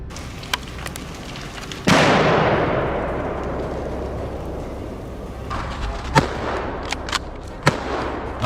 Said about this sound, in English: The sound of gunfire rings out in response